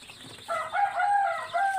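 Hill chickens of the Bahari Pahari breed at a farm, with a rooster crowing loudly and close for over a second, its long call rising and holding before tapering, alongside soft clucking and faint wing flaps.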